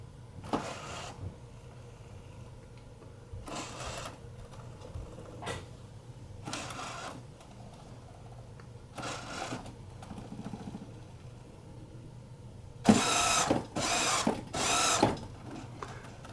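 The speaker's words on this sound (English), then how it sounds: "Now it's finding the end stops that I have in there." Drivetrain motors in a rebuilt B9 Lost in Space robot replica run through calibration, finding end stops and top speeds: a series of short, quiet whirring bursts separated by pauses, ending with several louder, quicker bursts.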